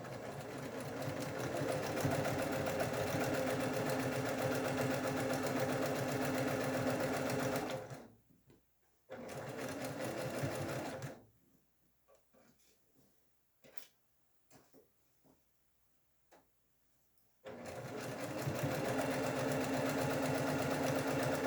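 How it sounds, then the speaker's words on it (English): Sewing machine stitching a quarter-inch seam joining quilt rows, running steadily and loud at close range, stopping briefly, then a quiet stretch with faint handling clicks before the motor resumes. "And then I'm ready to sew my 1/4 inch seam."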